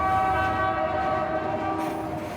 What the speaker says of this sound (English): powering their fully loaded coal train through the mountain wilderness